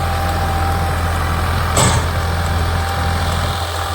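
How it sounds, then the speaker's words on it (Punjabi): A brand-new 2024 New Holland 3630 Special Edition tractor running a Vishvakarma super seeder drones loudly and steadily nearby, a heavy low rumble with a brief hiss partway through. "3630 ਸਪੈਸ਼ਲ ਐਡੀਸ਼ਨ 24 ਮਾਡਲ ਬਿਲਕੁਲ ਨਵੇਂ ਟਰੈਕਟਰ ਦੀ ਪਰਫਾਰਮੈਂਸ ਇਹ ਚੱਲਿਆ ਦਾ ਸੁਪਰ ਸੀਡਰ"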